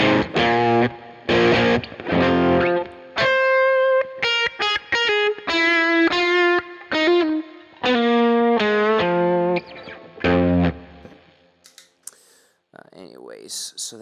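Electric guitar played through a chain of distortion and drive plugins, including Klon, Muff, Rat and Tube Screamer models, in an Ableton and TONEX rig. Choppy strummed chords and single sustained notes sound loud and close, ending in a sparse decaying tail.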